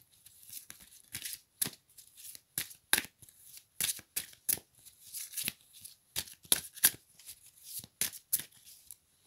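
A deck of oracle cards is shuffled and cut in quick, close bursts of papery riffling and slapping, loud and irregular, with brief pauses between the flurries.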